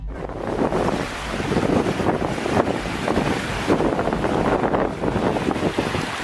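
Ocean waves at a beach on the Isle of Palms, South Carolina, give a steady, loud wash of surf mixed with gusting wind noise on the microphone, with no clear voices.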